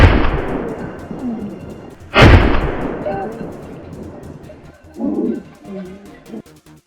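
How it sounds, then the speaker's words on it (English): A gunshot at wild boar rings out in open swampy country, one loud sharp blast that echoes and fades, with a fainter low thud a few seconds later. "After the thunderous gunshots, the wild boar herd seemed startled and began to rush off in a panic."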